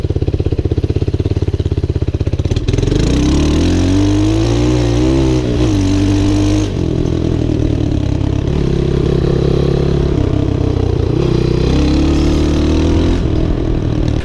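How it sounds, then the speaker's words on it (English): A 140cc mini ATV engine revs hard during a top speed run, loud and close, rising and falling through gear changes with rattling clatter and steady wind buffeting. "This ATV freaking rips."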